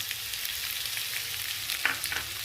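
Potatoes and soybeans frying in a pan with spices, a dense, steady close sizzle with light stirring scrapes and a couple of louder crackles near the end.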